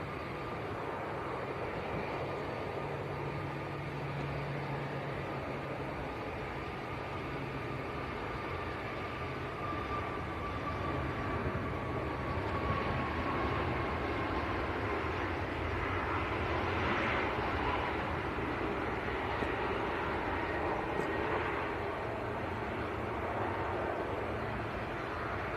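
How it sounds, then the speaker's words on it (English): A TUI Boeing 737 MAX 8 airliner at Manchester Airport gives off a continuous broad jet roar from a distance that swells slightly midway and holds steady, with no talk. "Here goes Tui, 737 MAX 8."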